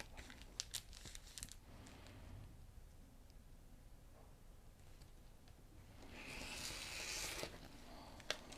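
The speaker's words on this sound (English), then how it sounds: "so you can see that I am going through and cutting all of the solid lines" A rotary cutter slices along the solid lines of triangle paper on a roll for quilting half-square triangles, making faint, close crinkling and tearing rustles broken by small clicks, soft and intermittent throughout.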